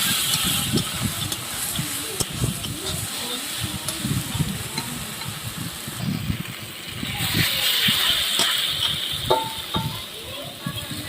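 A paste of ground ginger, garlic, cumin and chillies sizzles in a pan while a spoon stirs and scrapes it in short, repeated strokes, with an occasional clink of metal. The sizzle swells louder toward the end.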